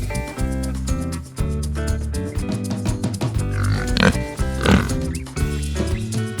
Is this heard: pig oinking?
yes